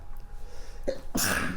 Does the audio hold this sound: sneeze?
yes